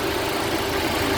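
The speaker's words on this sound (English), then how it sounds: "Hey Jim, just keep the engine running" A car engine idles steadily after a repair to its number three fuel injector, a loud, even mid-pitched drone with a constant tone and slight vibration, running alone without talk.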